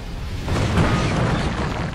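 A palm strike smashes a crater into hard stone paving in an animated fantasy fight, a deep booming blast that swells after a brief rushing lead-in and rumbles on, loud and close.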